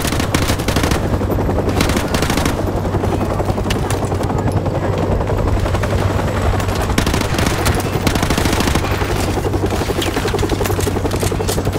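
Call of Duty Modern Warfare Remastered battle noise: dense, continuous automatic gunfire and bursts mixed with the heavy thrum of a helicopter, loud and unbroken throughout.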